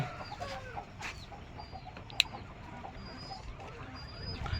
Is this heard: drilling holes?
no